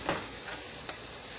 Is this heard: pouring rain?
no